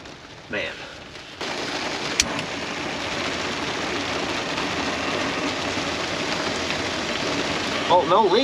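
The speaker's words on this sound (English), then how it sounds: "gosh, it's raining harder now." Heavy rain drums steadily on a truck camper's roof and shell, a dense continuous patter close by, with a brief sharp knock and a voice speaking at moments.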